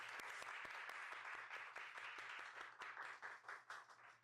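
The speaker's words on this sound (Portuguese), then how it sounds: "Vale uma salva de palmas, vale." A small podcast audience gives a few seconds of brisk, moderately close applause, individual claps distinct and the clapping thinning toward the end.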